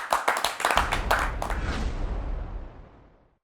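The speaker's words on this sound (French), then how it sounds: "On l'applaudit, s'il vous plaît." Audience applause in a television talk show studio: a short burst of clapping from a modest crowd that quickly thins out and fades away within a few seconds.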